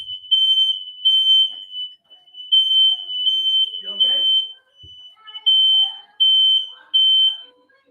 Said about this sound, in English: I'm hearing a fire alarm.